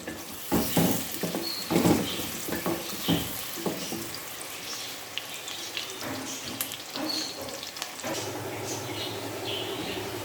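Onions frying in a pan for a gobi chicken curry, giving a soft, steady sizzle with irregular crackles and a few louder stirring scrapes early on, then a quieter, even hiss.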